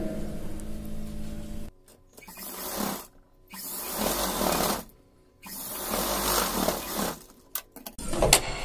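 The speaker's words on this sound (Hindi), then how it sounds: "यहाँ सिलाई लगाते हैं अपन।" An electric sewing machine stitches a fabric face mask in several loud, steady whirring bursts separated by short pauses, with no talking.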